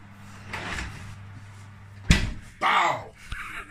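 A hot kitchen oven door is unlatched and swung open with a sharp clunk, then a louder rushing, scraping sweep as it drops, while a person talks nearby.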